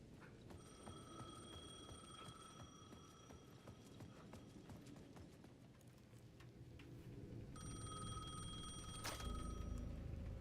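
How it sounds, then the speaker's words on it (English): A payphone on the edge of a plaza in the video game Alan Wake II rings in repeated electronic trills, faint against a busy, clattering background ambience. "The payphone at the edge of the plaza was ringing again."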